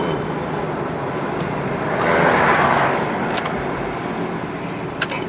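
A Cadillac Escalade swishes past on a snow-covered road during an upstate New York blizzard, a broad whoosh rising and fading around the middle over steady road and wind rumble.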